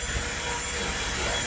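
A corded handheld car vacuum running, a steady close whooshing hum with airy suction noise that holds level through a brief burst.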